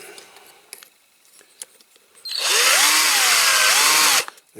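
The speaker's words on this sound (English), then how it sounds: "So drill that out." A power drill bores out a rivet on a diecast Matchbox Superkings Bedford TM concrete mixer model during restoration: light tapping and handling noises, then a loud, steady high whine of the drill running for about two seconds before stopping.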